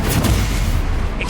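A Confringo blasting curse from Hogwarts Legacy bursts as a loud, close explosive boom amid dense rumbling battle noise, with a brief bright crackle near the end.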